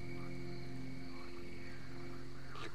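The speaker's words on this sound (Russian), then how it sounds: "Лягушки." Frogs croak continuously in a swampy area of the S.T.A.L.K.E.R. video game, a dense, steady chorus at moderate distance with no talking.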